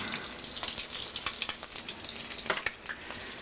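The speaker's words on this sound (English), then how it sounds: "I'm afraid these are going to dry out and break up before I have a chance to fry them" Corn taquitos frying in hot oil, a steady bright sizzle with crackling pops throughout, close and continuous, with no one talking.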